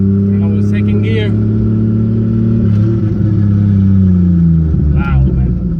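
Mazda RX-7 FD fitted with a 1JZ-GTE engine and a Nissan 350Z CD009 transmission, pulling in second gear with a loud, steady engine drone. The pitch rises and falls gently while someone talks over it.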